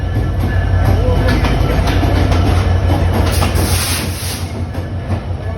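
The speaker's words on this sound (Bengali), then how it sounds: "দেখি ট্রেন চলে এসে অলরেডি" A train rumbles past with a steady low roar and faint rail clatter, a hiss rising near the end, with some talk in the background.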